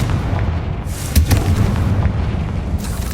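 The Confringo spell explodes in the Hogwarts Legacy video game with a deep booming blast, followed by rumbling low roar and scattered crackles over a few seconds.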